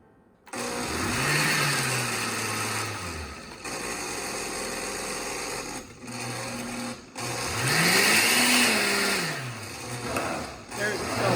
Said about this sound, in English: An air bubble down by the blades, they just spin and nothing gets blended.